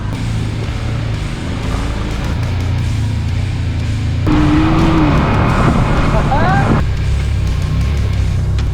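Off-road vehicle crawling up a rocky trail, its engine droning steadily with revs rising and falling as it climbs, heard close up with occasional squeaks and scrapes.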